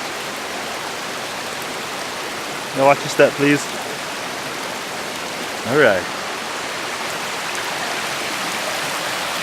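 A waterfall on a Hawaii hiking trail gives off a steady, even rush of falling water from some distance away, continuous throughout, while a voice speaks briefly twice over it.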